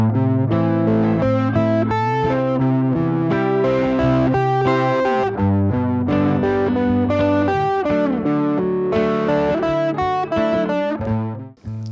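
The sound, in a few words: electric guitar playing arpeggio-based solo over chord progression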